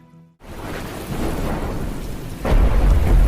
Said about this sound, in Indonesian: Hujan lebat yang turun setiap hari membatasi aktivitas para penduduk.